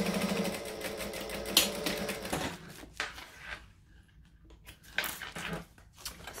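A sewing machine stitches across a bag strap in a burst of mechanical clatter, then drops off into scattered short handling clicks and taps, fairly close and with no voices.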